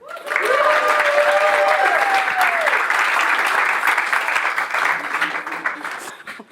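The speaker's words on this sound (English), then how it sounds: "Can we please have a big round of applause for Samantha" Wedding guests applaud the maid of honour with loud, sustained clapping that opens with a rising vocal whoop or cheer, then stays dense before easing off at the end.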